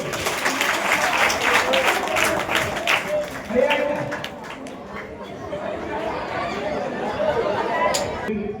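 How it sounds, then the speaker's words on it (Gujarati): An audience at a family gathering claps loudly for a child, a continuous wash of applause mixed with crowd chatter and voices talking over it. "જોરદાર તાળી પાડો ભાઈ"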